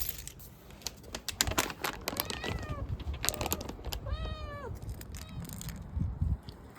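A fluffy neighbourhood cat meows a few times while being offered Dreamies treats outdoors: several short, clear meows close by, with background noise and small clicks in between.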